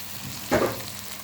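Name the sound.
liver frying in a pan with onions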